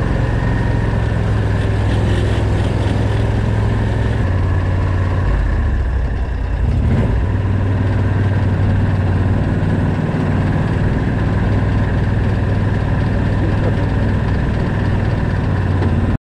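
An Argo 8x8 amphibious vehicle's engine runs continuously near a boat ramp, giving a loud, steady low rumble and drone with a slight dip in pitch midway and no speech.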